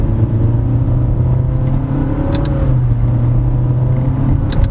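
A 2023 Honda BR-V engine held at a steady rev in manual mode after a downshift, a loud continuous droning hum close up, with faint clicks near the end.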